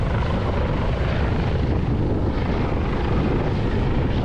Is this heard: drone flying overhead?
yes